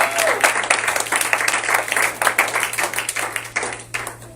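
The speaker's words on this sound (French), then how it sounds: "Est-ce que tu peux acclamer le Seigneur?" Church congregation at a Sunday worship service applauding and cheering for the Lord, dense steady clapping from many people with scattered shouts, close and loud throughout, over a constant low hum.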